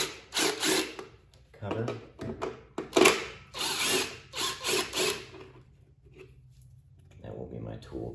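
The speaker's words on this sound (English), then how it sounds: "5/16 to get the blower housing off, the intake manifold" Ratchet with a 5/16 socket removing the blower housing of a small engine carrying a Nikki carburetor on a Storm Responder: repeated quick clicking bursts in short runs, close up, with someone talking between them.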